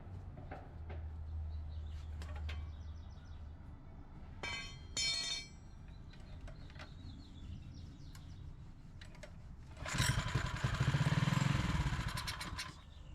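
A motorcycle, refitted with a traditional ignition coil in place of its CDI, fires up late in the clip with a loud rough burst of engine noise, after quieter clinks and faint birdsong in the background.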